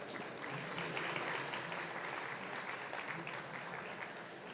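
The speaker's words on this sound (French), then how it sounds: "Sous vos applaudissements." A conference audience applauds at an event on low-carbon real estate. The clapping is soft, dense and continuous, steady for a few seconds before easing slightly.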